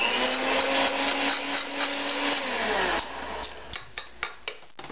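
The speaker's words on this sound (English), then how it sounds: "I just prefer to use the hand mixer because my wrists get tired." Electric hand mixer whipping cream, a steady close whir for about three seconds whose pitch drops as it slows, then stops, followed by several light taps of beaters against the bowl.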